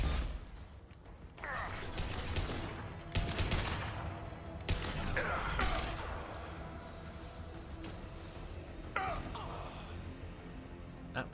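Gunfire and impacts in the video game Mass Effect 2 come as loud bursts of weapon fire mixed with mechanical whooshes, arriving in several distinct waves over steady background rumble.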